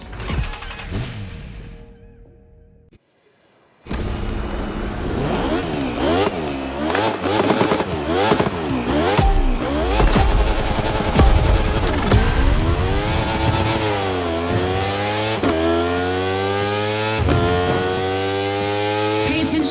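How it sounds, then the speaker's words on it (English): Racing motorcycle engines in The Crew Motorfest scream loudly up and down through the gears, with rising and falling whines and sharp shifts after a brief quiet start. "Now, time to unleash the moto racing power."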